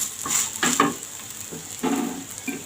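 Bottle gourd dosa batter sizzling in oil on a hot pan, a bright continuous hiss broken by bursts of stirring and scraping, close and fairly loud with no voices.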